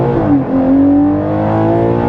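Ferrari Purosangue, a 715 HP V12 SUV, accelerating hard in first gear from inside the cabin, engine note rising smoothly and loud with a strong steady growl, no talking.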